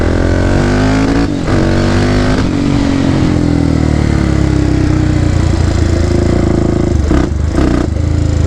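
A Polaris Predator 500 ATV, restored after sitting for years, revs hard and loud up close, its engine note climbing and dropping as it shifts up through third and fourth gear.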